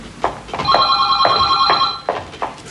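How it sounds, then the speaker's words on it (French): A telephone bell rings indoors in an apartment, with steady harmonic tones sustained over about a second and a half and broken by short clicks and rustling before and after. "Le téléphone."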